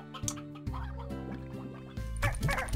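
Stony hens cluck in the video game Slime Rancher, a few short close clucks and squawks over a low game music drone, growing busier toward the end.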